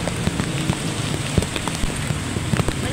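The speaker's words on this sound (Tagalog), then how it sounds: "Malakas yung ulan." Heavy rain in part of Caloocan during a storm, a dense continuous hiss of drops pounding surfaces with scattered sharper splashes, loud and close throughout.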